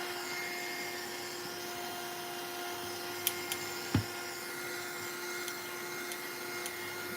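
A drying tool blows on wet paint with a steady, moderate whirring hum and a constant tonal whine, plus a few faint clicks and taps nearby.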